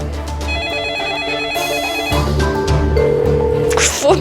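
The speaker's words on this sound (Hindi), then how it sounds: "फोन क्यों नहीं उठा रहे?" A telephone rings on and on unanswered, a repeating electronic ringtone pattern that stays loud and close, with music-like tones shifting partway through and no one picking up.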